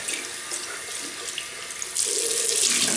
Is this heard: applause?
no